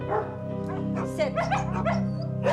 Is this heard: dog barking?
yes